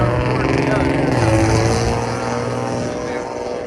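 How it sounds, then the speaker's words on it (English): Loud, steady engine drone from a nearby motor vehicle likened to a motorcycle or dirt bike, holding a sustained hum with a slight pitch change midway, while people talk over it. "Sounds like a motorcycle"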